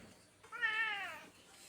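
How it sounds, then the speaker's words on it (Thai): A cat gives a single clear meow of about a second, close and fairly loud, on a farm where pigs are raised for sale, with no talking over it. "คุยคุยอยู่แมวก็มาหา"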